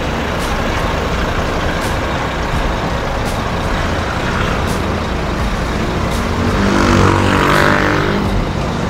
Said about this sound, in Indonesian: Saatnya bus yang kita naikin masuk untuk parkir.